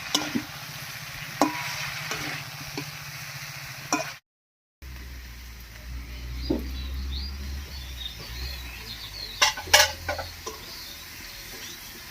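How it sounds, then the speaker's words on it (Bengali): Cabbage is stirred into other ingredients in a pan for badhakopi ghonto, soft scraping and spatula clicks over a low sizzle, broken by a brief silent gap, with a few sharper knocks later. "বাঁধাকপিটা দিয়ে সব কিছুর সঙ্গে মিশিয়ে নিয়েছি"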